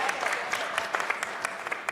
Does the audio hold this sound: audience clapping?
yes